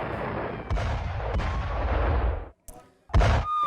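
Missile strike exploding among buildings in a Tel Aviv residential area, a loud booming blast with a long rumbling decay that cuts off, followed by a second sharp heavy impact.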